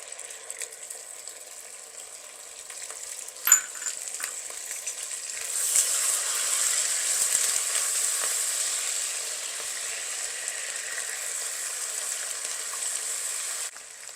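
Garlic and ginger paste for mutton curry fries in a pan, a steady bright sizzle that swells louder after a brief clatter of stirring and holds continuously, with no talking.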